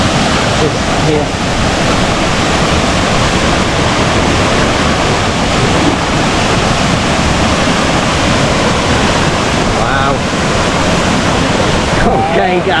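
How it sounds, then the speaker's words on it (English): Uma Anyar waterfall in Bali roars with strong flowing water, a loud, steady rushing wash heard close up, with brief voices faintly under it. "the flow of water is strong"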